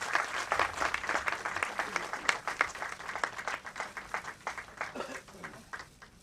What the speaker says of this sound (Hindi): दोस्तों एक जोरदार ताली बजा दीजिए।